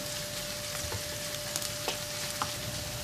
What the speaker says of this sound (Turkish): Soğanlarımızı birkaç dakika kavurduktan sonra bir yemek kaşığı salça ekliyorum. Salçamızı da biraz kavuralım.